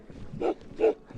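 A dog gives two short, sharp barks about half a second apart, moderately close, outdoors at high altitude, with low background noise between them.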